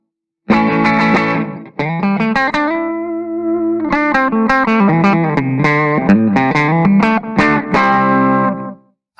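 Harley Benton DC Junior FAT LTD electric guitar played with a clean tone, a run of plucked notes and a held chord, ringing clearly with no voices.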